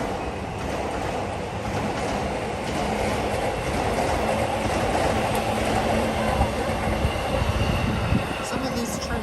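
Trains rumble and clatter past near Yoyogi Park in Shibuya, a loud, continuous rolling roar with wheel noise that holds steady for several seconds, with faint voices in the background.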